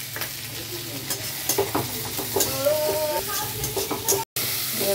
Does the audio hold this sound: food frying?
yes